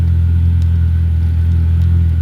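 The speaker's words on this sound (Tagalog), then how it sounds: "Kailangan ng engine brake." Engine of a car descending Quintuinan Hills in Camalig, Albay, holding back under engine braking: a steady, loud low rumble and drone that continues without break.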